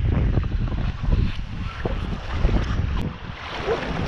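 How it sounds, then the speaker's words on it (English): Wind blowing across a bay, heard from a paddled boat, as a steady low rumble of gusts and microphone buffeting with water noise beneath, close and fairly loud throughout. "I say it's breezing up some."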